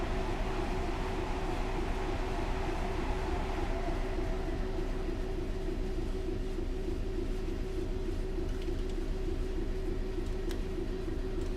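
Heavy train in Train Sim World 4 pulling away on the East Coast Main Line, a steady droning engine hum with a constant rumble, unbroken and moderately loud.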